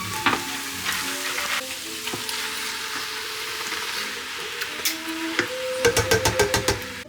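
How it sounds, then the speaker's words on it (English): A whole white onion, chopped asparagus and mushrooms saute in a pan with a steady moderate sizzle, then a quick run of sharp utensil taps and knocks against the pan near the end. "I've got a full white onion, some chopped asparagus, and some chopped mushrooms. And once those all saute together"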